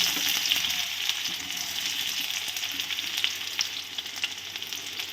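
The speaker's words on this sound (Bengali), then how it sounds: "তেলটা গরম হয়ে গেছে, আমি এবার এর মধ্যে দিয়ে দেবো কেটে রাখা পেঁয়াজ" Chopped onions dropped into hot oil in a pan sizzle and fry with a steady, bright crackle, close and fairly loud, without any talking.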